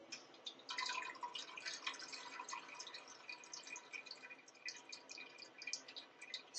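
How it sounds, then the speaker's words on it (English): Cranberry sauce syrup pours through a colander into a pot below, a continuous soft trickle with scattered drips and splashes, fairly faint and close, with no speech. "I'm going to strain it through a colander, and the syrup's going to go down into another pot"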